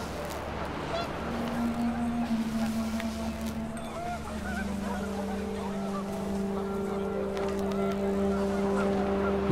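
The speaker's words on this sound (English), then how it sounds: "Wind picked up, and panicked geese appeared and quickly went." Panicked geese in What Remains of Edith Finch honking repeatedly over a steady low wind-like drone, several overlapping calls rising and falling at moderate distance, with a voice talking in places.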